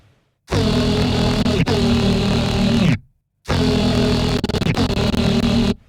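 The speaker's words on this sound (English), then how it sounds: "So yeah, it's like super muddy, mid-range type bass" Muddy mid-range synth bass lead played dry with no freeze effect: two thick, buzzing sustained notes of about two and a half seconds each, loud and dense, separated by a short gap of silence.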